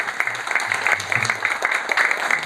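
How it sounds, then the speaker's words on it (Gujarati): A brief burst of audience clapping at a health awareness session on addiction recovery, a dense patter of many hands lasting a couple of seconds. "પરાગભાઈને એકવાર આપણે સૌ તાળીઓથી વધારીએ."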